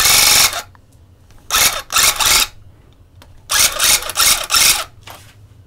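Rug tufting gun working through fabric on a letter design with loop and cut pile, heard as loud bursts of buzzing mechanical rattle, one long run then several short runs separated by quiet pauses, no talk.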